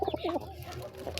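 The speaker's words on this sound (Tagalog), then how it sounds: "Blue mga kalapati namin guys." Blue bar pigeons cooing close by in a loft, a few soft rolling coos early on, then quieter murmuring against faint background noise.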